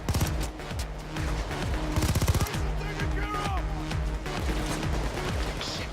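Rapid automatic gunfire rattles in a Payday 2 heist, with fast, evenly spaced shots in long bursts. Players' voices talk over the shooting.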